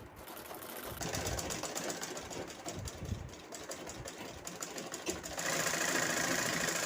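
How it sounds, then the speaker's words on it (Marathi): A sewing machine stitches the straps of a homemade tiffin lunch bag, running as a continuous close, rapid mechanical whirr that grows louder and faster near the end, with no voices. "आता बेल्ट शिवून घ्यायचं आहे"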